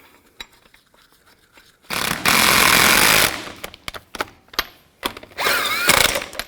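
A power impact wrench tightens the lug nuts on the wheel of a 2000-06 Chevy Tahoe in two loud, sustained rattling bursts separated by softer clanks and handling noises.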